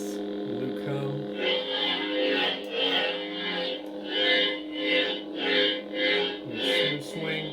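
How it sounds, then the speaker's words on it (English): A Luke Skywalker lightsaber sound font on an upgraded V3 saber hums while being swung, with repeated whooshing swells rising and falling in a steady rhythm over the buzzing tone. "Smooth swing."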